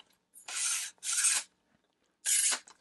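Tripod leg clips being flipped open to extend the legs, giving three separate short plastic rasping snaps, close and loud in a quiet room.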